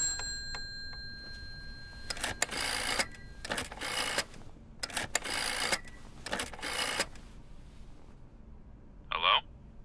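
Bursts of clicking and rattling mechanical noise from a telephone in use in the game Layers of Fear, several separate bursts spaced by pauses, with a brief ringing tone at the end, close and fairly quiet.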